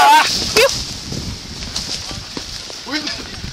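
While cattle are being moved between farms, a dog gives a few sharp barks and yips at moderate distance, heard over outdoor rumble, hoofbeats and people talking and calling out.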